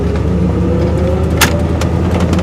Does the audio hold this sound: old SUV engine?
yes